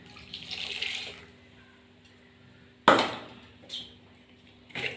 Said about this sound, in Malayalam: ഞാൻ മിക്സിയുടെ ജാറും കൂടി കഴുകി ഒഴിക്കും ഇതിനകത്തോട്ട്.